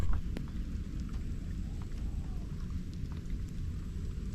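Steady rain falling on a surface, a continuous close patter with scattered distinct drops and no voices.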